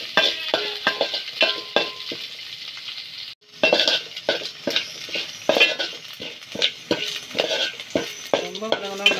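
Okra and onion sauté in a pan, a busy close-up sizzle broken by frequent spatula scrapes and stirring clinks that repeat at an irregular rhythm, with one brief gap before the stirring resumes.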